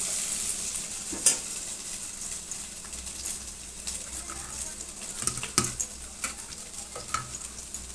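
Potato gravy frying in a pan, with a soft hiss under scattered scrapes and clicks of a spoon stirring against the metal, a few sharper taps standing out.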